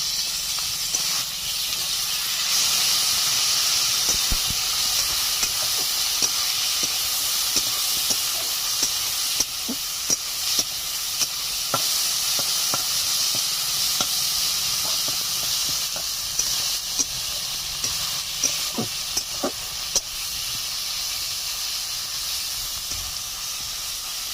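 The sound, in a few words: frying ginger, garlic, chili paste and tomato for chicken curry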